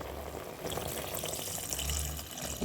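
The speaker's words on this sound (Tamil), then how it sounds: "இப்போ இதுக்கு தேவையான அளவு நம்ம தண்ணி சேர்த்துக்கிடுவோம்" Water pours steadily into a cooking pot while raw banana rasam is being made, a continuous close splashing and gushing that runs the full length with no talking.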